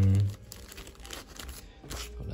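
Board game cards from a fantasy card tactics game are handled up close, producing soft crinkling and rustling with a brief thump at the start, and no speech.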